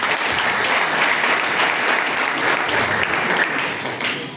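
A crowd at a scout week gathering in Rusizi, Rwanda, applauds loudly and continuously, a dense, even clapping that tapers slightly toward the end.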